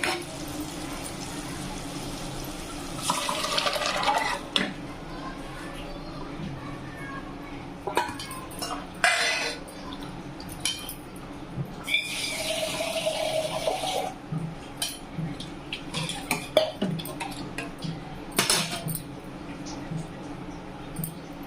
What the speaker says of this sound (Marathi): त्याच्यात पाणी टाकलं.